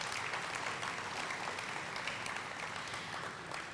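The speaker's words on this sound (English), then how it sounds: "So again, another round of applause for our continued leadership." Steady applause from an audience at a school ribbon cutting ceremony for Percy Priest Elementary, a dense, even clatter of many hands sustained for a few seconds with no voices over it.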